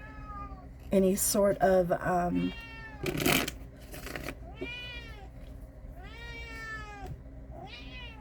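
A cat meows repeatedly, several drawn-out, rising and falling cries spread across the stretch, fairly close and clear, with a person's voice talking between and over some of them.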